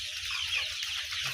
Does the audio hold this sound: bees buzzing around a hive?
no